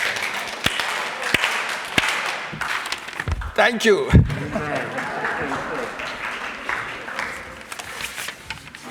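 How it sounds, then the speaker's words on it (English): An audience at a Buddhist church gathering in San Francisco claps hands together several times in unison, fairly close and loud, with crowd noise around the claps and a voice speaking briefly under them. "Clap hands 4 times together."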